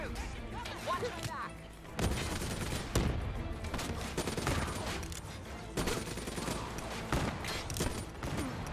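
Dense, continuous gunfire in the video game Call of Duty: Black Ops 3, with rapid overlapping shots and bursts firing almost without pause, loud and close, with voices speaking intermittently underneath.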